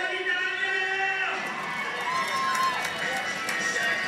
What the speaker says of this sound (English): And of course the crowd is cheering